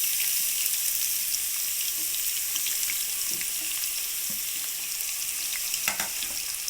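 Onion pieces frying in a pan, the start of a Chittoor chicken curry: constant close sizzle with occasional clicks and light stirring scrapes, steady throughout with no talking.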